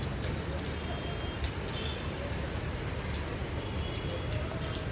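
Rain and wind battering a home during a storm, a continuous loud hiss of rain with faint patter, steady throughout with no clear voices.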